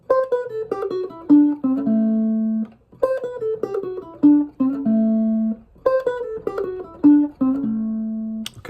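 A clean electric blues guitar plays a single-note lead phrase up to speed, a quick descending run of picked notes repeated three times in a loose, even rhythm, each pass closing on sustained lower notes, close and alone.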